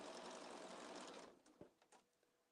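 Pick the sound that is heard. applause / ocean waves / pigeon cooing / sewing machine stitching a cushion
sewing machine stitching a cushion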